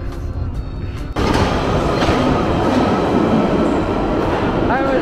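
A train passes in London, rising quickly into a loud, continuous rumble and clatter of wheels on rails that fills the scene, with faint wheel squeal near the end.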